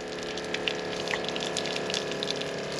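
Water sprays steadily from the partly blocked nozzles of a crop sprayer, a continuous loud hissing rush with small spattering bursts throughout and no voices.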